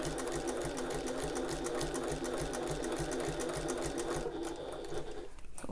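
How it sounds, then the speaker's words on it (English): A sewing machine stitches steadily around the top edge of a fabric tote, its rapid even needle rhythm loud and close, running continuously without talk. "I'm just going to sew around the entire top."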